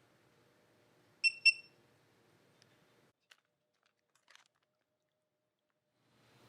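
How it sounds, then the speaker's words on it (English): Kitchen cooking appliance chiming two short beeps in quick succession to signal it has finished, clear but brief in an otherwise quiet room, followed by a few faint clicks. "and then it'll beep when it's finished"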